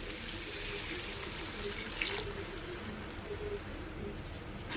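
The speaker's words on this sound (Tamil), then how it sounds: "இப்போ காய் வேகிறதுக்கு தேவையான அளவு தண்ணி ஆட் பண்ணிக்கலாம்" Water pours steadily into a cooking pan of brinjal gravy with a continuous splashing hiss, close by, lasting several seconds without a break.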